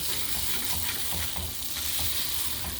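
Dense, continuous sizzling fills the clip, with soft scraping and rustling as rice grains are fried and stirred around a hot pan for lentil pulao.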